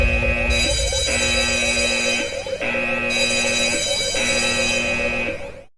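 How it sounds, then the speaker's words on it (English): Electronic alarm with a repeating buzzing beep pattern, steady tonal pulses in several layers cycling about every second and a half, loud and close throughout before cutting off at the end. "In come the spoiler alarm."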